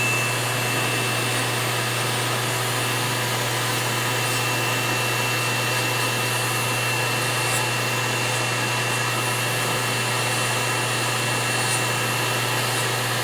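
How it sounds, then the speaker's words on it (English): A steady, high-pitched electric whine from a small motorized drill runs continuously at an even level, close up, with no pauses. "this is a new drill I'm using"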